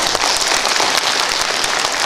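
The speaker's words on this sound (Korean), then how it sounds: "사랑하는 부천 시민 여러분, 준비하신 한선재 의원에게 다시 한번 힘찬 박수를 부탁드립니다" A crowd of Bucheon citizens at a mayoral candidate's book launch event claps in dense, steady applause that stays loud and even throughout, with no speech over it.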